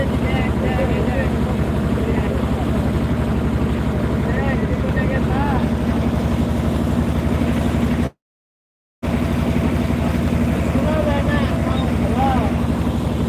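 A motorboat engine drones steadily and loudly throughout, cutting out briefly for about a second before resuming, with faint voices beneath, on a river at Lala Khal, Bangladesh, where sand and stones are being extracted.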